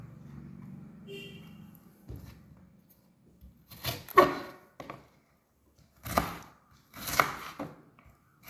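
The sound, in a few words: chopping okra on a cutting board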